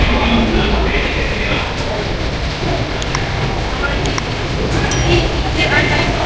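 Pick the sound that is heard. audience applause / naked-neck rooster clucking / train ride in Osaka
train ride in Osaka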